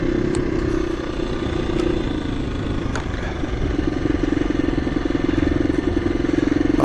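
A KTM EXC-F 350 four-stroke dirt bike on a slippery chalk trail in the North Wessex Downs, its engine droning steadily with a pulsing mid-range hum and occasional clattering knocks, rising slightly toward the end.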